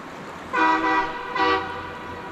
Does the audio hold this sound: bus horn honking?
yes